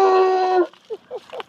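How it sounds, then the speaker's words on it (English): A drawn-out high whine followed by a few short, soft whimpers from a dog, close by, with no other sound. "Good guard dog."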